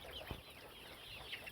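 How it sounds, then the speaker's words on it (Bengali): Brown cock chickens on a 2000-bird poultry farm, some recently sick, give soft scattered clucks and calls amid steady barn noise, with one brief low thump near the start. "এখানে 2000 মুরগি আছে"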